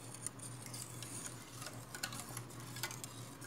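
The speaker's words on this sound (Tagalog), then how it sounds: "Haluin natin ng mabuti." A boiling fruity jelly mixture thickened with corn starch is stirred in a pot, giving soft, quiet scraping and faint bubbling with occasional light ticks from the spoon.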